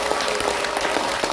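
Applause from a seminar audience for four presenters, a brief, dense burst of many hands clapping together, loud and close throughout.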